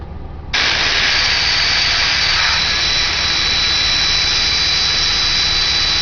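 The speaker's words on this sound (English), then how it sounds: "A dump valve makes a world of difference." Turbocharged engine running at 20 psi boost with a dump valve, a loud steady roaring whoosh and hiss that jumps up abruptly after a brief quieter start and then holds constant.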